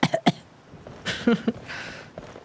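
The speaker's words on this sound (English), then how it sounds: "Cough, cough." A person coughs twice, close and sharp, then a short throat-clearing cough follows after a pause, with a faint breathy trail between them.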